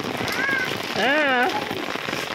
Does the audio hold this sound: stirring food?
no